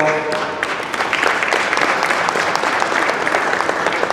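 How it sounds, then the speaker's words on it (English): An audience at a surprise birthday gathering applauds steadily for an absent award recipient, the dense clapping holding for the full stretch at a moderate distance, with no voices over it. "let's give them a round of applause"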